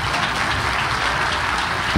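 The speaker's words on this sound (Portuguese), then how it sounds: "E eu quero que você receba com a maior salva de palmas o nosso presidente" A church congregation gives a big round of applause welcoming its pastor and president to the stage, a dense, steady wash of clapping that stays loud and even, with no clear speech over it.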